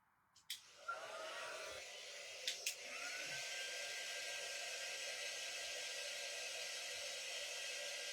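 A hair dryer blowing over a floral American flag craft, a couple of soft clicks and bumps as it starts, then a steady close whooshing hiss that holds to the end, with no talk.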